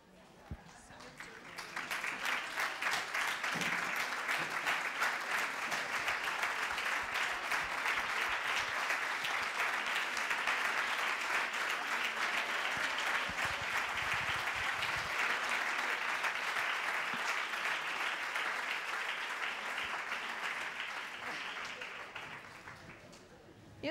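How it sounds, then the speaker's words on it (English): An audience at an international conference on women in fisheries applauds the women working in the sector, with dense, steady clapping that swells in quickly, holds loud for about twenty seconds and then tapers off. "ask all women working in fisheries to stand up so we can applaud for you"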